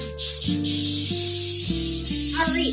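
Cooking spray hisses in bursts as a muffin pan is greased generously before baking chive popovers, the spray sitting over a steady musical backing with no talk.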